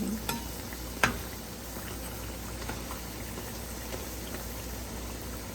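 Continuous sizzling and bubbling of green chili fritters frying in hot oil, close up and fairly quiet, with a couple of light clinks near the start.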